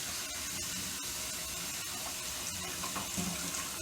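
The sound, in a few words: tap water running to rinse starch off rice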